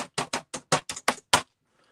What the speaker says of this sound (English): who was it that said they liked the sound of me typing?